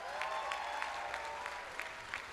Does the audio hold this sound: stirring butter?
no